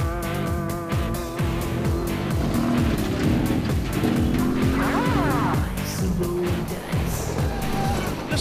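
4WD vehicle racing off-road without its winch: a loud, continuous engine roar with revving and shifting pitch throughout, close up and busy with mechanical rattling.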